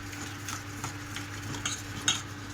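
Melted jaggery bubbles and sizzles in a pan while it is stirred slowly to make gur kathi sweets. A soft, steady simmer continues throughout, with light scraping strokes and a brief utensil clink near the end.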